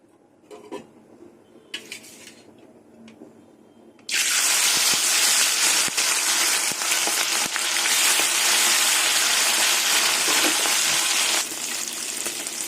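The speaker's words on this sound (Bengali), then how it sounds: "এবার আমি মাছগুলো দিয়ে দেবো" Small puti fish hit hot mustard oil in a wok, setting off a sudden loud, steady sizzle that holds for several seconds after some quiet kitchen clatter, then eases slightly near the end.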